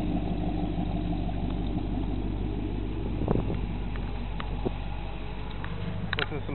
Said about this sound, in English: Here we can hear the exhaust exiting the 3-inch chrome collectors.